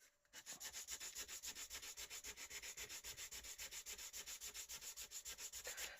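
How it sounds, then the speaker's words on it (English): A hand-held sander fitted with a 60 grit disc scrubs across a surface in quick rhythmic strokes, a steady gritty rasping that pulses about five times per second at close range. "the disc sander's using 60 grit on there"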